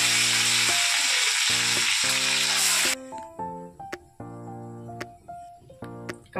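Soaked cashews and raisins hit hot white oil in a kadai, giving a loud, bright sizzle for about three seconds before it drops away, with background music playing throughout.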